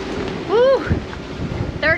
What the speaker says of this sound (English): The sea state has definitely become much choppier.